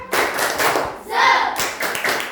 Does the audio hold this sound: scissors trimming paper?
no